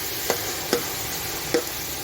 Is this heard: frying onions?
yes